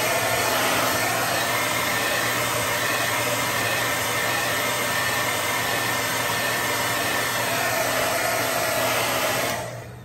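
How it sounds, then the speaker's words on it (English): A hair dryer blows steadily and loudly on fresh paint over a studio-scale A-Wing model panel, a continuous even whoosh running almost the whole time before cutting off near the end. "So we'll just blow dry that real quick."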